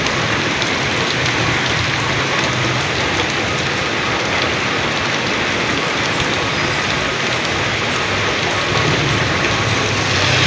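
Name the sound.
heavy rain falling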